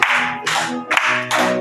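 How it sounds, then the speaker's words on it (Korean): A church congregation claps along in bursts at a worship service, with loud, dense applause broken by short pauses. "박수 치고 하겠습니다"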